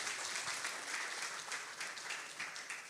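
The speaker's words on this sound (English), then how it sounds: "I think they need a round of applause from us." An audience at a stakeholders' retreat applauds, a dense, steady crackle of many hands clapping heard from across the room at moderate volume for a few seconds.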